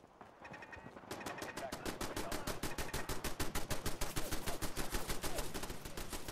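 Automated turrets in Fallout 4 firing machine guns in a long, steady rapid burst, loud and continuous over several seconds, with no talk.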